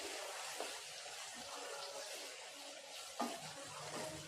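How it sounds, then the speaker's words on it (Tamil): Soft, steady sizzling of tomatoes sautéing in a pan, with a couple of faint scraping stirs, close by and quiet. "இது நல்லா தக்காளி கொஞ்சம் நல்லா வதங்கட்டுங்க"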